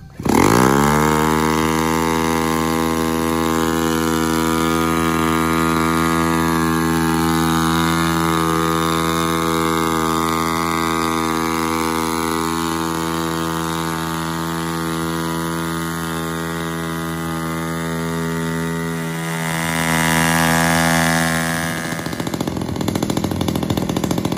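A 43cc gasoline engine on a Meridian RC plane runs steadily at a loud, close idle-to-mid throttle with a strong buzzing harmonic drone, briefly swelling near the end, after rain at an airfield runway.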